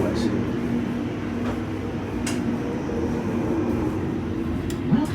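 Interior of a Greater Anglia Class 745 electric train near the middle traction section, a steady rolling rumble and hum with faint faraway clicks and a soft whine at the end.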